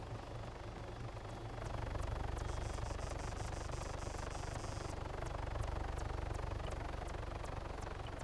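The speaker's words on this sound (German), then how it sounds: "Der Heli geht einem schon ein bisschen auf den Nerv hier." A helicopter in Arma Altis Life flies overhead with a steady, loud rotor drone that swells after the first second and holds. A rhythmic chop runs throughout, with no talking.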